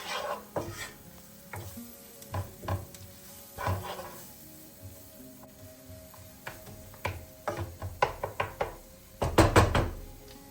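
Flour being stirred into softened fried onions in a pan, with a spoon scraping and knocking against the pan over a soft sizzle, in irregular bursts that grow busier toward the end.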